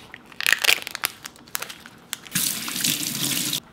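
Knife slicing a block of tofu into small half-inch cubes for Korean soybean paste stew, a series of quick close cuts and taps followed by a steady rush of running water from a kitchen tap.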